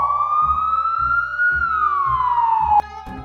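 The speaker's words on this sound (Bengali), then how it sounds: "অ্যাম্বুলেন্স যাচ্ছে মনে হয়।" A siren wails continuously as an ambulance passes, its pitch rising then falling away, loud and close throughout with a rhythmic low rumble beneath and a sharp knock near the end.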